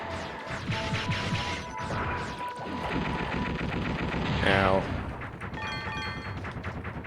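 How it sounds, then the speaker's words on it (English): Enemy death explosions in the game Mega Man Legends 2, loud crashing blasts over a busy stream of game effects and music, with one rising synthetic burst near the middle. "I forget you take chip damage from their death explosions."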